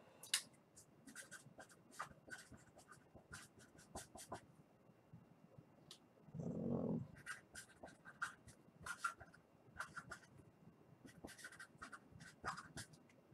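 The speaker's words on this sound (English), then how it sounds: "Let me write that down." A pen scratches out a quick note during a 2017 Majestic Football full-case card break: soft, close strokes in short irregular bursts, with a brief low thump partway through and no talking.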